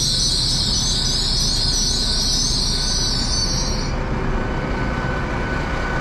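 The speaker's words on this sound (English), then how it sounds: "arriving now is the 1529 Great Western Railway service to Great Malvern" Great Western Railway Class 800 unit 800-018 pulls into a Cotswold Line station on a service to Great Malvern, a loud continuous rumble with a high wheel squeal that fades out partway through.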